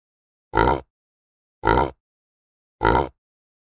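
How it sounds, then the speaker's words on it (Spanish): Three short, evenly spaced oinks, each about a third of a second long, with clear pauses between them and nothing else in the background. "Aquí tenemos un cerdo."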